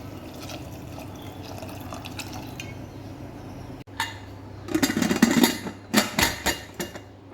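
Water is poured into a pot of dal set to cook, a short splashing gush after a quiet stretch, followed by a few sharp metallic clanks of the pot and utensils close by.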